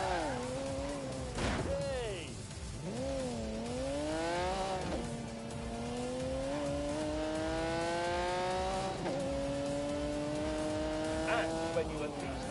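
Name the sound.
1985 car 5-litre V12 engine revving, from Grand Tour video game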